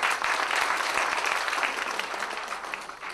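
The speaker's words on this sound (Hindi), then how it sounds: "आपसे गुजारिश है कि तालियों से इनका इस्तकबाल करें" Steady applause from an audience, dense clapping that holds throughout and eases slightly toward the end.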